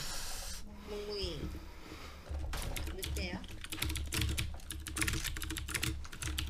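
Fast clicky keystrokes on a Leopold mechanical keyboard with blue switches, typed during a Special Force online shooter match; the taps come close and in dense bursts over game sounds.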